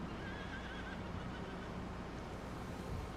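Horses in a multiplayer video game let out a faint, high whinny early on, then blend into a low, steady hiss of game ambience with no talking.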